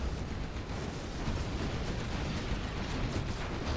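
A firewall strike destroying a nuke cannon in Command & Conquer Generals Zero Hour, heard as a continuous dense roar of fiery explosions and rumbling bursts, loud and sustained throughout.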